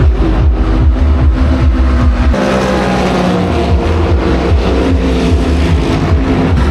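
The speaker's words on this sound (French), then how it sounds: "Des voitures de 500 chevaux qui se tirent la bourre toute la nuit" 500-horsepower race cars thundering past at the 24 Hours of Spa, with loud, continuous layered engine roar and repeated revving as several cars race by close at once.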